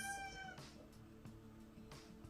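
A cat meows a few times, faint and distant, over a low steady hum in an otherwise quiet room.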